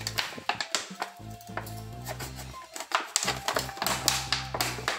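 Scissors cut through a PET plastic bottle, with a quick run of sharp, irregular snips and crackly taps close up and no talk.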